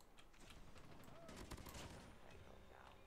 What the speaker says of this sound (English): my sentry gun is just going insane